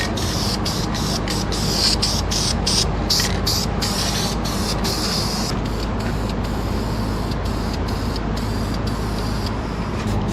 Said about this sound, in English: We can get underneath here and spray both sides of the pipe.